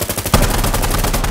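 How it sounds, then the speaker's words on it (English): Rapid automatic gunfire in the video game Insurgency Sandstorm, a dense burst of loud sharp shots following one another without pause. "Stop shooting me, you jackass."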